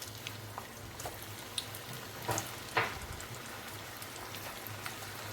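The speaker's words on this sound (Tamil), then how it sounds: "அடுத்த உருண்டைகளை போட்டுட்டு இதே மாதிரி பொன்னிறமாக வறுத்து எடுத்துக்கலாம்" Plantain dumpling balls deep-frying in hot oil for plantain kulambu give a soft, steady crackling sizzle with a few sharper pops, heard at a moderate level with no speech.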